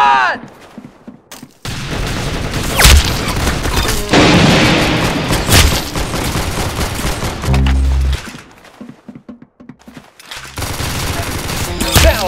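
Gunfire and booming hits in a Roblox game, loud bursts and sharp impacts alternating with quieter gaps, with a person talking in between.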